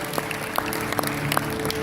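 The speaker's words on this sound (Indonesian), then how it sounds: "Kita boleh berikan tepuk tangan dulu buat Tuhan kita" Church congregation clapping during a worship service, a steady, dense wash of applause with a few sharper claps standing out, moderately loud, with a faint tonal hum beneath.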